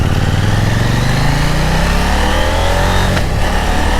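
KTM 890 Duke R 2020 motorcycle engine accelerating up through the revs with a rising whine and a brief shift around the third second, loud and close, with a car also in the scene.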